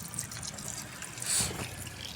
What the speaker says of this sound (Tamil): இதில் தண்ணி ஊற்றுறோம் பாருங்கள்